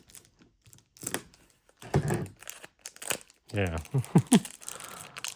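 A Panini Revolution football trading card pack wrapper is torn and crinkled open in short, sharp bursts separated by quiet gaps, close to the microphone, with a brief spoken word.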